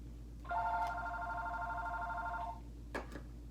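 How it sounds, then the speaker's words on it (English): A telephone rings once with a steady two-second electronic trill, fairly close, followed by a couple of faint clicks in an otherwise quiet room. "phone is ringing"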